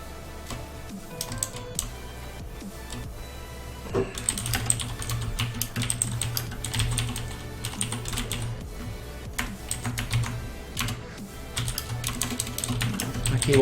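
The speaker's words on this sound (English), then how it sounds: "My keyboard is so loud." Rapid clacking of a loud computer keyboard under a streamer's hands, bursts of keystrokes coming in uneven flurries and pauses over a low steady hum.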